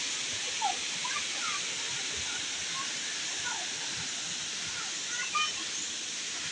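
Water rushes in a steady, broad hiss at a waterfall, loud and continuous, with faint voices barely emerging beneath the roar.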